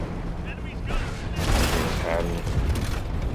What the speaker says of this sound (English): I'm just gonna throw a shell at the machine's turret.